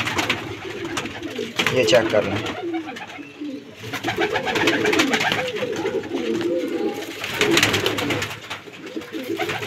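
Teddy Parwazi pigeons coo steadily in a loft, soft throaty rolling calls layered over one another, with someone briefly speaking over them; the loft holds nineteen birds.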